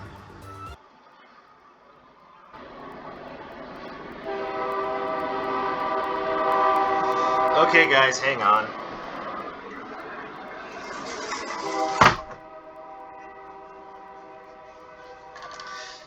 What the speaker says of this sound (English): this strange but eardrum decimating combination of train and helicopter